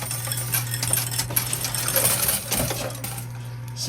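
Tokens clatter and drop continuously inside a high-limit coin pusher arcade machine, a dense busy rattle of metal coins over a steady low machine hum, with some background chatter.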